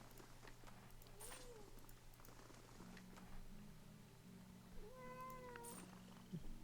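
A cat meows faintly a couple of times, rising and falling calls over a steady low hum and quiet background noise.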